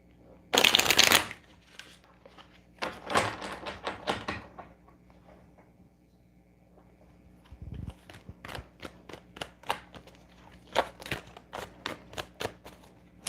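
A deck of tarot cards being shuffled in several bursts of rapid riffling and fluttering, with quiet pauses between, up close.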